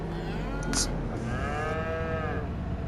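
Cattle in the farming video game Farm Sim 25 give a couple of drawn-out, nearby moos over a low steady ambient hum.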